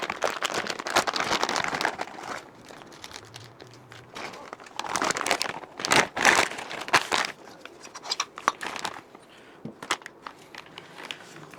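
Packaging crinkled and torn while unboxing a Danmotor 2-port cylinder kit for a Bajaj Chetak scooter, dense rustling and crackling bursts throughout, close and continuous.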